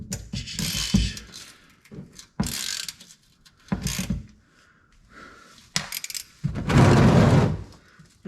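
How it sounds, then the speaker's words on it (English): Ratchet removing 13 mm transmission pan bolts on a 1984 Corvette automatic, repeated close bursts of clicking and scraping in separate strokes with quiet gaps between them. "she's gonna start ripping 13mm bolts off"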